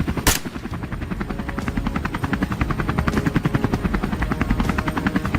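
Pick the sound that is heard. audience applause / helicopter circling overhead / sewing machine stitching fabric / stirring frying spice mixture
helicopter circling overhead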